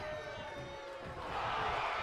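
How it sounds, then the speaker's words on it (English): Wrestling arena crowd in WWE 2K22 roaring and cheering, a steady wash of noise that swells louder near the end, with a commentator's voice over it. "The sound of this crowd is deafening, and he's asking for more."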